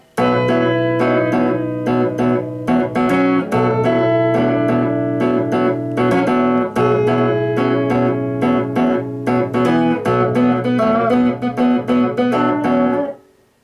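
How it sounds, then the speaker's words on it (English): Tapped electric bass plays alone, mixing a deep low note with plucked chords and a higher melodic line in a steady, ringing pattern. "you can very clearly hear low bass note, chords hitting, chordal melody line thing"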